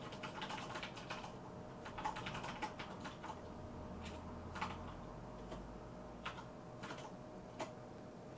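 Someone types a column name on a computer keyboard, a quiet, irregular patter of individual key clicks with short pauses between bursts, close and faint, with no talking.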